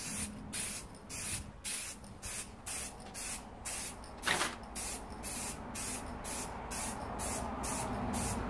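A second coat of spray paint goes onto a motorcycle fuel tank in rapid, evenly spaced hissing bursts, each short spray pulse close and crisp, with brief gaps between passes.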